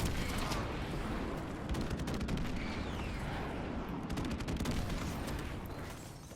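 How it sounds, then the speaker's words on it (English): A friendly airstrike in Modern Warfare Remastered multiplayer, a dense, loud barrage of explosions and rapid gunfire rumbling continuously, with sharp cracks layered over deep booming throughout. "Friendly airstrike on the way."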